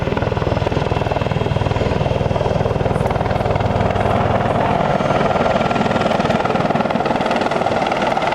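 An AH-64 Apache helicopter flies low at a military air show, its rotor throbbing in a loud, steady, rapid beat that holds for the whole stretch.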